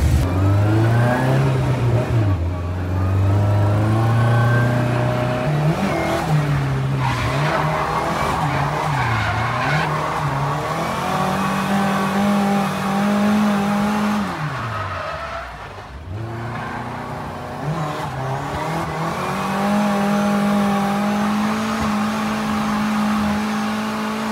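A drift car's engine revs and roars continuously at La Chapelle du Bard, pitch rising and falling as it accelerates, with tires squealing; loud and close, no talking.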